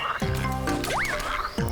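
A frog croaks in Super Mario Odyssey, where Mario has taken frog form. Several distinct croaks, including a rising pitched one, sound close and clear against quiet background.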